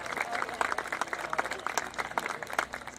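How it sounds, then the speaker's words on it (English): Scattered, thinner applause from spectators at a college cross country championship, individual claps distinct and uneven rather than a full roar, moderately quiet and heard without speech. "Let's have a nice round of applause for those folks."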